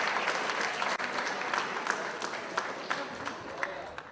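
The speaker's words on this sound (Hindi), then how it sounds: "आपकी भरपूर तालियों में तशरीफ लाते हैं जनाब रहमतुल्लाह आमिर।" Steady, fairly soft audience applause at a Pakistani Eid mushaira greets a poet taking the stage, broad clapping with a few sharper claps standing out.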